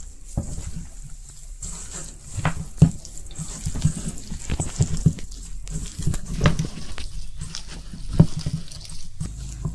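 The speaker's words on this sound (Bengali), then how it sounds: "একটু একটু জল দিন" Water trickles and splashes in small additions as dough is kneaded by hand, soft irregular patters and wet squishes close by with brief quiet gaps between.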